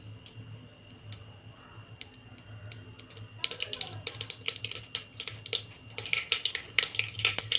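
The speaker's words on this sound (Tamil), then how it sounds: "எண்ணெய் ஊற்றி கடுகு போட்டு நல்லா கடுகு பொரியட்டும்" Mustard seeds splutter in hot oil, starting as scattered faint pops and building into a dense, crackling patter of sharp little bursts close by.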